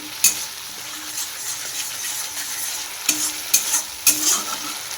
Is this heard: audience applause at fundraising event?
no